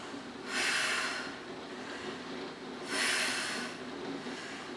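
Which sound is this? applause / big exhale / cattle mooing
big exhale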